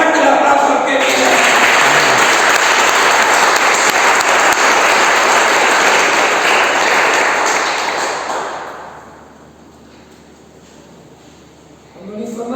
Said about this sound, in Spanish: Fuerte el aplauso al que viene.